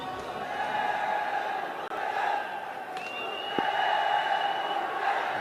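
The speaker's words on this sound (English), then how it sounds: "Crowd starting to come alive as early as 10 past 11, quarter past 11 here" A packed crowd at a cricket stadium during a Nepal vs UAE T20I final gives off a steady, loud roar of cheering and shouting that rises slightly toward the end, heard from within the stands.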